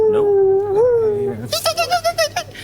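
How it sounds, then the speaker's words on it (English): Yipping and howling of night hounds as a fantasy podcast sound effect: a long, wavering howl gives way to a rapid series of high, sharp yips, close and loud, with no talk. "You hear this yipping, howling."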